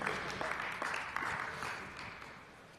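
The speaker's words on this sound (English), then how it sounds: "We can give a round of applause." An audience at a sim racing expo applauds in a steady wash of clapping that holds at moderate level throughout and eases slightly toward the end.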